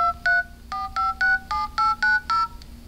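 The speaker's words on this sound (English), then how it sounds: "Phone dialer, obviously you get some pretty big buttons here." Touch-tone keypad tones from the dialer of a T-Mobile Prism Android phone, about nine short clear beeps pressed in a quick irregular sequence, close and alone with no talking.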